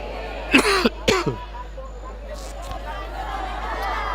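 Two sharp coughs close to the mic in quick succession from a preacher ending a sermon, followed by a faint murmur of a crowd in the background.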